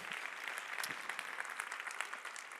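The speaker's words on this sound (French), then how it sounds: "Merci à tous, on les applaudit très fort." An audience at the Palmes de la Relation Client 2022 ceremony applauds steadily, a dense wash of many hands clapping at moderate level with a few sharper nearby claps standing out.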